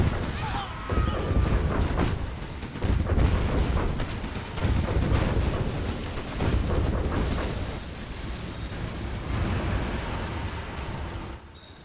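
Inferno cannon artillery in a real-time strategy game, with booming shots and rumbling explosions recurring through a battle that also involves infantry and Overlord tanks, while a commentator talks over the din.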